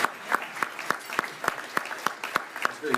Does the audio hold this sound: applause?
yes